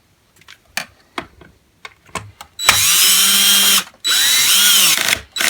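A power screwdriver drives screws into a Dyson vacuum cleaner's front cover: light clicks and handling taps first, then two close, loud whirring bursts of about a second each with a brief pause between.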